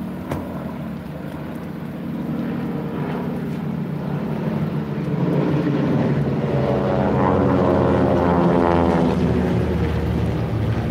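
Propeller warbird airplanes drone overhead at a military vehicles show, the engine roar building steadily louder as they pass, with no talking.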